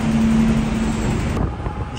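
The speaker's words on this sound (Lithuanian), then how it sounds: "Kelto ir tiesiai į eismą." Road traffic just off a ferry on Gran Canaria, heard as a continuous broadband rumble of passing vehicles with a steady engine drone that eases slightly after a moment, close and loud.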